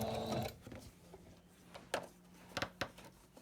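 A sewing machine stitching binding onto a pinwheel quilt: a short burst of fast mechanical stitching, then quiet with scattered clicks and taps of the machine being adjusted, close and fairly soft.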